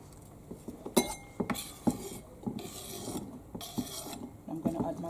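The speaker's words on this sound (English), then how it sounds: "I'm going to put my onions in here." Chopped onions go into a cooking pot in a school kitchen, giving a series of soft clinks, scrapes and knocks of utensil against metal in an irregular rhythm, fairly quiet and close, with no talk.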